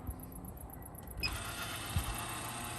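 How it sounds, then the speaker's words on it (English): Steady whirring hum of a ventilation fan in a camper van cabin, switching on partway through and then running continuously at a moderate level. "And that's the fan."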